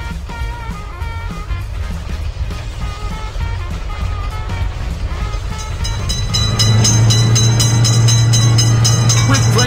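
A train in a children's cars-and-trains video game rumbles past with rhythmic clatter that swells louder near the end, joined by a sustained horn tone, all loud and close.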